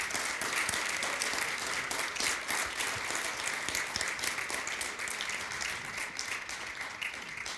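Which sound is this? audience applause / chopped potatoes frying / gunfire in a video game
audience applause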